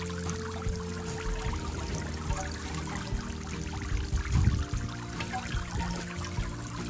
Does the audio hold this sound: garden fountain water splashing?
yes